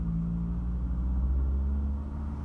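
A 1984 Vauxhall Cavalier SRi with a 130 engine drives along at a steady pace, a loud, close, low in-cabin engine drone and road rumble with no voices.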